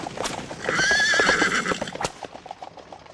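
Many horses with riders neigh and whinny loudly while hooves clip-clop steadily underneath, a busy group of mounted horsemen moving close by.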